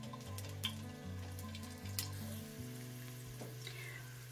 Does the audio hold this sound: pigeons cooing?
no